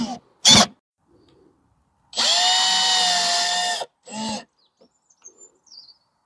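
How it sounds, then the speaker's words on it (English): Short buzz of a power drill driving a self-drilling, self-tapping screw into a window hinge, then a sustained whining drive lasting almost two seconds, followed by another brief burst and quiet clicks. "get my drill with the self-drilling, self-tapping screws"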